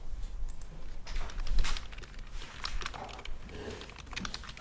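Computer keyboard keys pressed during a spreadsheet lesson, irregular clusters of clicks and taps at moderate loudness over a faint room background, with no voice.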